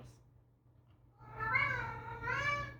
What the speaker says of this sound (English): Meow meows.